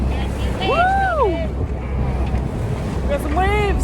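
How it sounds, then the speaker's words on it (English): Waves slosh around a sailboat on San Francisco Bay near the Golden Gate, heard as a steady wash mixed with wind buffeting the microphone; seabird-like cries rise briefly over it. "We got some waves."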